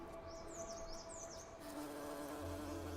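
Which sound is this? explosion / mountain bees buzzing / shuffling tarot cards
mountain bees buzzing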